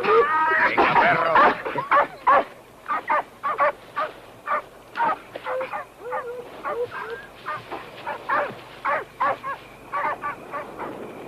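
A dog barking and yipping repeatedly in a rapid, excited rhythm, close and loud, with whimpering at the start, in a Spanish-language horror film.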